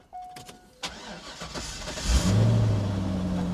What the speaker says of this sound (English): The engine sounds good though.